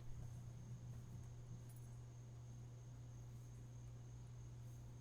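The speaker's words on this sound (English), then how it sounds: "Cricket. Yeah, did you hear that?" A cricket chirps faintly and steadily in a quiet indoor setting, a thin continuous trill beneath a low background hum, with no voices.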